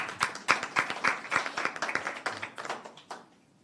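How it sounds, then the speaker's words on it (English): Scattered audience clapping at an education oversight committee press conference, a few dozen hands in a modest room, sharp irregular claps that thin out and fade over a few seconds. "Now, yes, you can clap."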